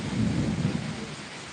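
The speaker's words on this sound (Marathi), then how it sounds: "खूप पाऊस चालू आहे" Heavy rain pouring steadily with a deep, rumbling roar, loud and close, easing slightly toward the end.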